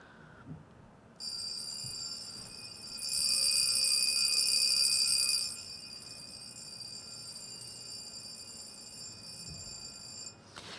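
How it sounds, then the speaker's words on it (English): A fully wound mechanical alarm watch, a Jaeger-LeCoultre Reveil, rings with a steady, high metallic buzzing trill, growing louder for a few seconds before settling and running on continuously. "Full wind, that alarm is going to go for quite a while."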